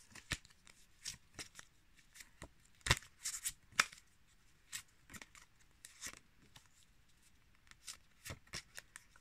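A pack of black trading cards is handled close up, giving sparse, crisp flicks and slides with a couple of louder snaps amid quiet pauses.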